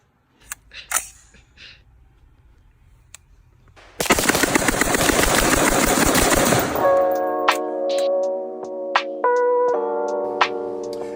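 A Sar USA K12 race shotgun fires a fast string of loud, sharp shots for about three seconds after a quiet start. Softer ringing tones and scattered clicks follow.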